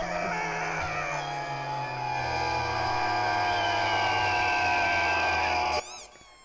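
A voice does a sustained, wavering screech imitating eagle noises, loud and close, holding for several seconds before cutting off abruptly near the end.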